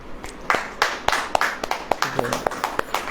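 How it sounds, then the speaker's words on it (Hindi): Scattered, uneven hand claps from a church audience, a dozen or so sharp, fairly close claps spread over a few seconds, with some speech-like sound behind them. "अब ताली बजाओ।"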